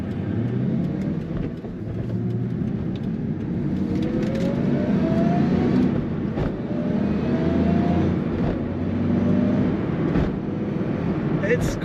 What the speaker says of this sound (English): we're driving a 2003 Ford Mustang Cobra Terminator. This is a 6-speed manual for the most fun you can have shifting the gears.